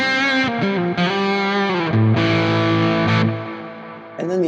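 Overdriven electric guitar through a Quad Cortex preset chain of overdrive pedal, amp and cabinet capture, chorus and delay, played as loud sustained distorted chords that change every second or so, with a brief pause before a final strum.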